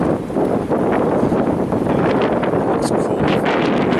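Wind rushes steadily past a bicycle wind generator outdoors, a loud continuous roar with gusty buffeting on the microphone and a brief spoken remark partway through.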